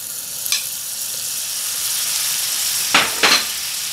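Bread toasts in melted butter in a hot pan with a steady, close sizzle, broken by a few sharp scraping bursts as the slices are turned.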